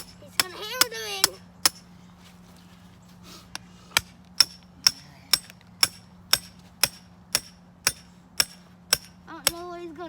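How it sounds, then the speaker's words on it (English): Trap stakes driven into the ground for a fox and coyote dirthole set, a steady series of about a dozen sharp hammer blows at an even pace, close by, over a low constant hum, with a brief voice at the start. "He's gonna hammer them in."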